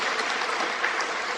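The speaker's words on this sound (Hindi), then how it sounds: "इसलिए एक बार जोरदार तालियां" An audience at an institute felicitation event gives a brief burst of dense, even applause lasting only a moment, fairly quiet and with no voices over it.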